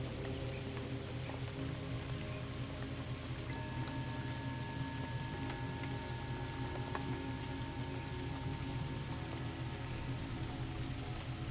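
Rain falls steadily in a calm night setting, a soft, even patter and hiss that stays constant throughout, with faint tonal hums in the background and no voices.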